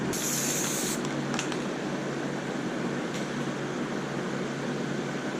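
A steady, close hiss of spray paint being applied to a welded DIY tailgate rack adapter, continuous and loud with no talking.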